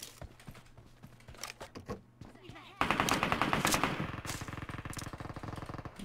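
PUBG Mobile gunfire from a nearby player: scattered single shots and footsteps, then sustained rapid automatic bursts of fire, loud and dense, with faint voices underneath.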